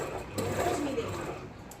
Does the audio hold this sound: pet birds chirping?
no